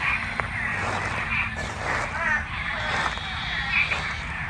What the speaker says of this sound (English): All the frogs going crazy.